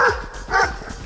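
A dog barks several times in quick succession, close and fairly loud, heard beside a road during a half-marathon training run with hill repeats.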